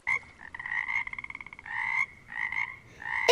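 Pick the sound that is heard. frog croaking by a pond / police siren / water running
frog croaking by a pond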